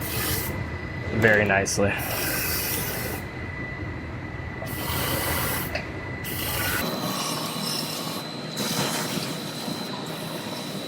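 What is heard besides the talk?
spray wand coating inside of truck frame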